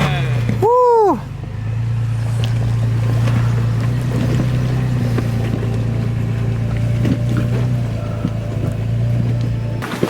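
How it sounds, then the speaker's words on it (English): A Toyota FJ Cruiser on BF Goodrich KM3 mud-terrain tyres crawls up a steep rocky incline with the front locker engaged, its engine a low, steady drone under wind noise, preceded by a short whooping rise at the start. "At this moment, we finally turned on the front locker and the vehicle crawled right up."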